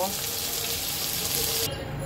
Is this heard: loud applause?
no